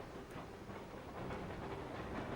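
Train in Army Men: Land, Sea, Air, a quiet, steady rumble with a faint clattering and hissing texture, rising slightly in level midway and holding without talk.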